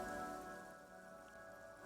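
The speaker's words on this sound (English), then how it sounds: "Sheets of rain over the water." Rain sheets down over water and rooftops in the Disco Elysium video game, a faint, steady patter with no other sounds over it for about two seconds.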